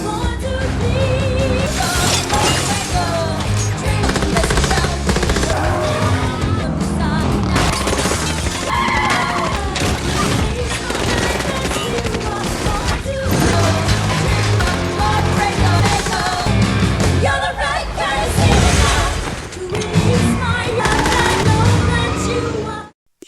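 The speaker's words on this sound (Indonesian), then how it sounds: "Mobil Hutch dihujani ratusan peluru." Dense bursts of rapid gunfire striking a car in an action film, mixed with crashing, shattering impacts and heavy music-like rumble, loud and continuous throughout.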